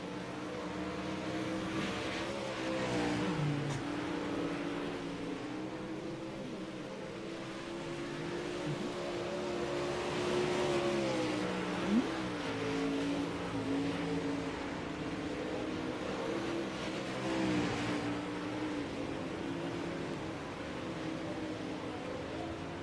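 Several super late model race cars circling Eldora Speedway in iRacing, engines droning steadily with rising and falling revs as they pass, a continuous mid-distance roar throughout.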